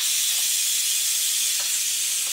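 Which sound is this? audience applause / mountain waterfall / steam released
steam released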